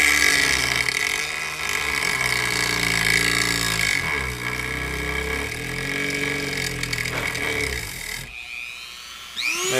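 A rotary power tool cuts into a plastic GoPro housing at medium-to-fast speed, softening and melting the plastic: a loud, steady high whine with grinding friction that holds for about eight seconds, then cuts off abruptly near the end.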